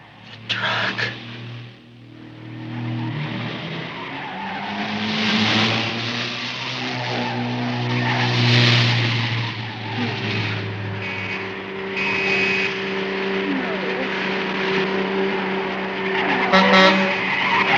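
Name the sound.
car skidding out of control, tires squealing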